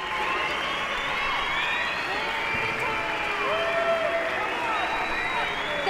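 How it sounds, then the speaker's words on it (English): A large crowd at an award ceremony in the video game Life is Strange boos, forming a steady dense roar of many voices with long sliding jeers, loud and continuous throughout. "Wait, were people just booing?"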